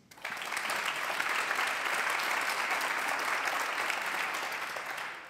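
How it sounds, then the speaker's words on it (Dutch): A studio audience bursts into steady, dense applause to welcome guests onto a Dutch talk show about the normalisation of botox, holding loud and even for several seconds before tapering slightly at the end. "Geef ze een groot applaus."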